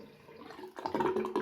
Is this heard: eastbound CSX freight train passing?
no